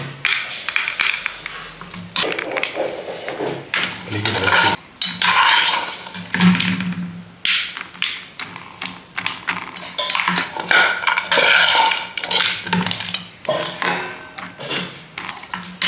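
A plate is set down among the clatter and clinks of dishes and cutlery while tapioca chips are served, close and fairly loud, with repeated bumps and scrapes.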